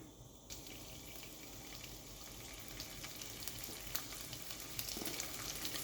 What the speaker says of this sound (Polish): Dokładamy polędwiczkę i na wysokiej mocy palnika usmażamy jakieś 3 minuty